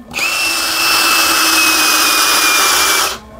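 A Premier HL 818 cordless brushless impact drill runs free with no load in one steady burst of about three seconds, giving a loud, even motor whine that starts and stops abruptly.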